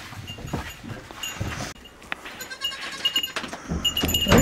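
Goats at feeding time with hay spread out on a farm, giving scattered bleats and rustling movement at moderate distance, with a few sharp knocks and shifting noises throughout.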